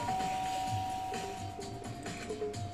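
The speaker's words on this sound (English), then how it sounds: "I pressed the doorbell." A doorbell chime rings inside the Danganronpa: Trigger Happy Havoc video game, a steady electronic tone held over a busy bed of game music and background sound.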